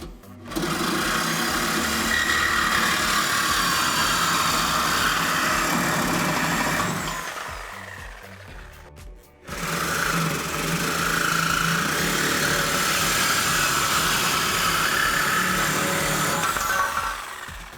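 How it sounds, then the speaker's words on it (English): Sawzall cutting a Camaro SS exhaust pipe, a loud continuous buzzing reciprocating drone that stops briefly midway, then resumes for a second long cut. "We're gonna use a Sawzall, and we can make our cuts."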